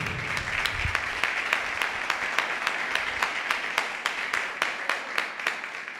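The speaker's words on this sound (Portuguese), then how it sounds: "Dá uma salva de palmas para o teu Senhor." A church congregation applauds continuously, a dense steady patter of many hands clapping with some individual claps standing out, no voices.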